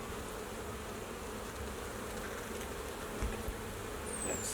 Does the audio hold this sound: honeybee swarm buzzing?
yes